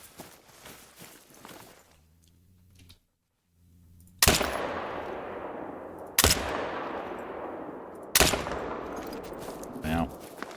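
Rifle shots while hunting in theHunter: Call of the Wild: three loud, sharp single gunshots spaced about two seconds apart, each trailing off into a long outdoor echo, after a quieter stretch of ambience.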